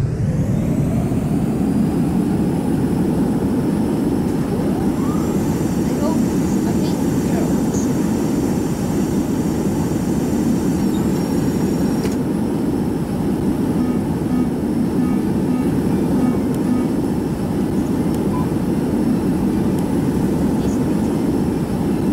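An airplane landing in the flight video game Extreme Landings: a continuous loud jet engine roar with a faint high whine above it, unbroken for over twenty seconds.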